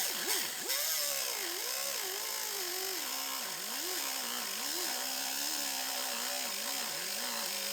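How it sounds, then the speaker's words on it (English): Full-size cutting disc slicing through a Lexus IS250 body panel, a continuous loud grinding whine whose pitch wavers up and down as the cut load changes. "So we're going to continue cutting our line."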